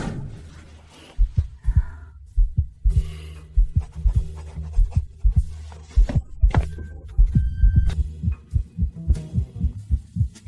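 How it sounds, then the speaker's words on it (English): A fast heartbeat thumps in quick, steady double pulses, loud and close over a low hum, with no talking. "Why is your heart beating so fast?"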